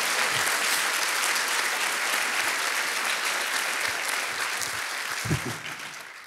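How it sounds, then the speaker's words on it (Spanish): A church congregation gives loud, dense applause to the Lord, sustained and then thinning toward the end. "Dale más fuerte ese aplauso al Señor."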